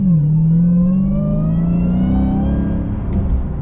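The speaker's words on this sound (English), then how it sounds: "just watch how these tires spin." Loud, close Dodge Hellcat engine revving high in eco mode while summer tires spin on a cold winter road, a sustained rising and falling roar with no talking.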